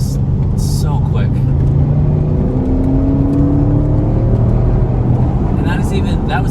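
A 2021 Audi RS6 Avant accelerates on a paved road, its engine note rising smoothly under steady road and wind roar inside the cabin, with someone talking over it.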